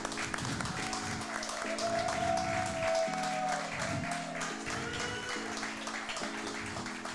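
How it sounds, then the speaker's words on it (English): An audience at a live show in Tampa gives steady, fairly faint applause. A sustained tonal sound and voices run over it. "Claps for Bryan Hoch."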